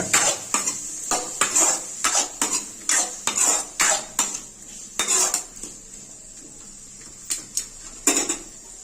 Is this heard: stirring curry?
yes